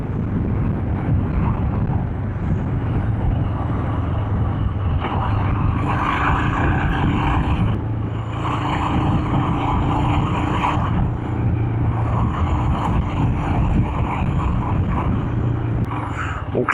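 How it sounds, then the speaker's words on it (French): Steady engine drone and wind rush from a Royal Enfield Himalayan motorcycle riding along a road on Réunion island, continuous and fairly loud with no talking. "on va doubler quand même, hein, on est en moto"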